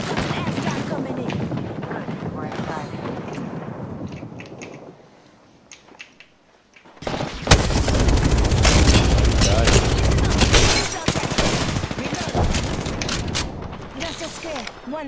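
Gunfire in a video game booms and crackles in heavy, dense volleys with loud impacts. The firing eases into a near-silent pause, then bursts back louder and sustained, while a voice talks over parts of it.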